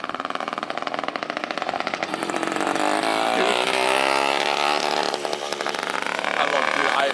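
An Iveco Daily van's engine cranks and catches, then runs with a steady mid-pitched idle and a slight rise in revs. It sounds close and loud, with people talking over it.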